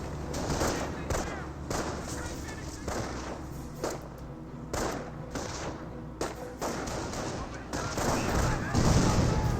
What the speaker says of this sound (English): Panzer Grenadiers do send a shot there at the riflemen